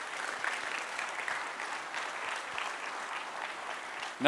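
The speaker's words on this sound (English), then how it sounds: "So give yourself a round of applause" Distant, steady round of applause from a large conference audience, an even wash of clapping that holds throughout before a sudden louder sound at the very end.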